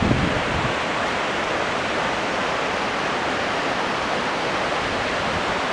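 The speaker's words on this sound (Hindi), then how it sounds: "ये बहुत सुंदर हिमालयी नदी जो यमुना नदी को मजबूत करती है" A Himalayan river feeding the Yamuna in Uttarakhand rushes steadily, a broad, even roar of flowing water, close and loud throughout, with no voices.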